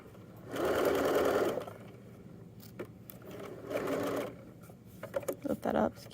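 Sewing machine stitching a jogger waistband, three bursts of rapid whirring stitches separated by pauses, the last broken into short stop-start runs, close and fairly quiet.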